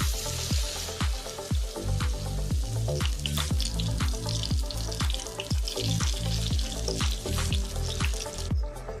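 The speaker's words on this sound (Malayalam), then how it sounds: "വഴുതനങ്ങ ഇതേപോലെ ഓയിലിലോട്ട് ഇട്ടു" Brinjal (eggplant) slices for baji frying in hot oil, a steady close sizzle with a regular repeating bubbling pulse and no talking.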